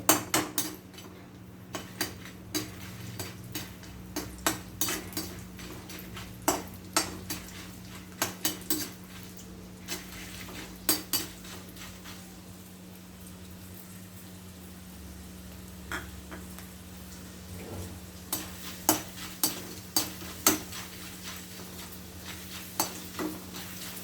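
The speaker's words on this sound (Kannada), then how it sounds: "ತುಪ್ಪ ಕಾದಿದೆ, ಈಗ ಅಂಟು ಎಲ್ಲ ಅರಳ್ತಾ ಇದ್ದಾವೆ ಒಂದೊಂದೇ" Edible gum pieces fry in hot ghee with a steady low sizzle and bubbling, broken by frequent sharp clinks of a metal spoon against the pan, close and fairly quiet with no talk.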